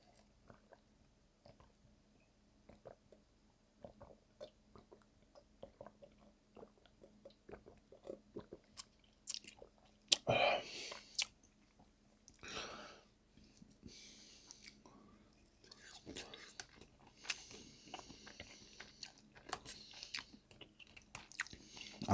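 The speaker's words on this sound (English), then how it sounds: "I've been munching on some Walmart Great Value brand cocoa dusted almonds and like some pretzel sticks" Close, quiet munching on cocoa dusted almonds and pretzel sticks, with steady crisp crunches and bites through a whispered mukbang, growing busier and louder partway through.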